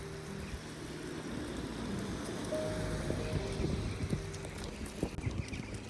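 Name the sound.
strong gusty wind blowing outdoors in Tissington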